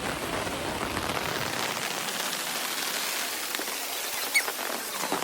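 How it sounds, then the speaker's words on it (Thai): Rain falls during a trip in Chiang Mai, Thailand: a steady, even patter with a soft hiss that carries on without a break and no voices. "แล้วฝนดันตกอ่ะ"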